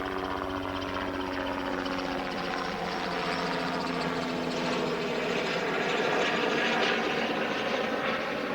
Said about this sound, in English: as the helicopter passed overhead